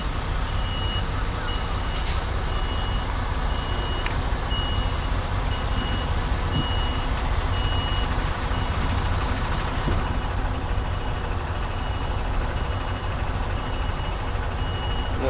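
A lorry reverses slowly into a yard bay, its reversing alarm beeping at a steady regular interval over a constant, rumbling diesel idle. The engine note shifts slightly near the end.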